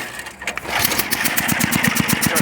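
A 1972 Canadiana 8HP snowblower with a 26-inch cut and a Briggs and Stratton engine runs close by, giving a steady, loud buzzing drone with a fast, even pulse throughout.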